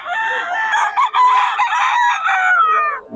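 A young stag rooster offered for sale at a market in Bocaue, Bulacan crows once, loud and close, in a long drawn-out cock-a-doodle-doo that trails off at the end.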